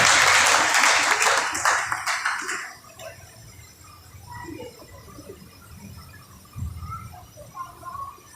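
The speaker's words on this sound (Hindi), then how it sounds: "आप सबों की भरपूर तालियों में" A church congregation claps for a Sunday school teacher at a service. Loud, dense applause fills the first three seconds, then dies away into a quiet room with faint hum and scattered small noises.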